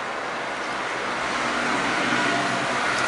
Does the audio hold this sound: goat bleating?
no